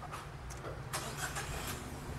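A mini van's R06E VVT 12-valve engine cranks and starts, settling into a steady low rumble with a few brief clicks on top, close and moderately loud with no talking.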